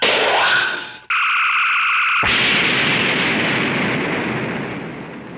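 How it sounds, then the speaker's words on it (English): Sci-fi phaser fire in a Star Trek parody, a bright sustained electronic tone that breaks into a loud, hissing blast and long fading rumble as the beam strikes an asteroid. "Target forward phaser banks and fire with maximum intensity."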